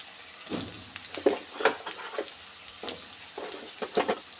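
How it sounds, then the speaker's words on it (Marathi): Potatoes tumble into a pan of sautéed onions with a series of soft, uneven clatters and scrapes. A faint sizzle sits beneath them, close by and fairly quiet. "आता यामध्ये आपण बटाटे टाकूया"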